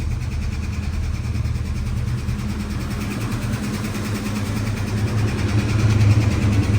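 A 1970 Dodge Charger engine idles slightly rich without misfires, giving a steady low rumble that stays loud and even and swells a little toward the end, with no one talking over it.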